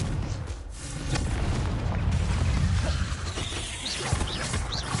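A Confringo spell in Hogwarts Legacy bursts with a rumbling, booming explosion that fills the space with sustained low roar and crackling debris, loud and close, followed by lighter sparkling effects.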